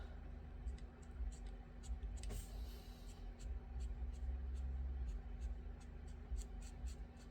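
A motorbike engine running outside, a low steady rumble and hum held faint in the background, heard indoors under quiet scratchy tapping from nearby.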